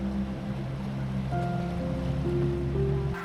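A safari boat's motor drones steadily out on the Bhadra dam reservoir, a low, continuous hum mixed with water wash, loud and near until it cuts off abruptly at the end.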